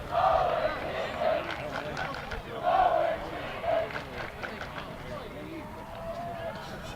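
Crowd at a high school football game, Haverhill High versus St John's Prep, chanting in rhythmic bursts that rise and fall over steady background babble, with a few voices nearby.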